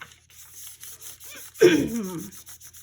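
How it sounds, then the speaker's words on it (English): Polymer clay is burnished with a piece of paper, giving soft, faint rubbing and scraping strokes in a loose rhythm, with one louder, longer rub partway through. "piece of paper, and we'll burnish it."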